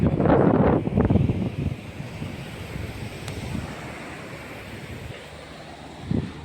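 Sea waves wash ashore at Porbandar Chowpatty beach, a loud rushing surge at first that eases into a steady, softer hiss, with wind buffeting the microphone.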